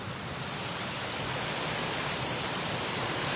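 Small waterfall in Pflugerville, Texas, a steady broadband rush of falling water, close and continuous with no breaks or voices over it.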